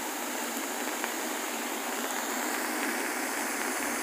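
Heavy monsoon rainwater pours several feet deep over the submerged weir of Neral lake near the Ganesh ghat, a steady, dense roar of rushing water that stays constant and fairly loud throughout with no voices.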